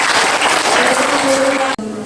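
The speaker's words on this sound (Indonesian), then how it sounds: "tepuk tangan Bapak Ibu ya luar biasa" Audience at a school foundation teaching workshop breaks into steady, dense applause that fills the room, cutting off abruptly near the end with a faint voice tone underneath.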